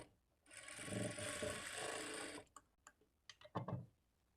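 A sewing machine stitches along the folded-in edge of blouse fabric in one steady, close run lasting about two seconds, then stops and gives way to a few light clicks and handling taps.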